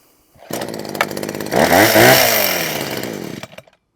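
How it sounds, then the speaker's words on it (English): A Husqvarna 123HD60 petrol hedge trimmer engine starts up close by, revs to a loud, raspy two-stroke whine around mid-burst, then eases off and cuts out after about three seconds. "Nice hedge trimmer, which I picked up today."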